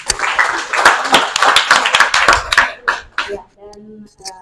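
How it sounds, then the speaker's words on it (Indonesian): An audience at an Indonesian theology seminar gives a round of applause, a burst of fairly close, uneven hand clapping that thins out into scattered claps and then fades as a voice follows. "boleh kita beri tepuk tangan sekali"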